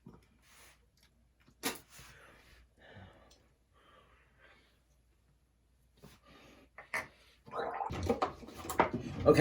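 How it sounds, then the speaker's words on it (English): Someone gargling TheraBreath mouthwash, a close, wet, bubbling gurgle that swells near the end after quieter rinsing and breathing sounds. "So I'll do the rinse for a minute and then the 30-second gargle."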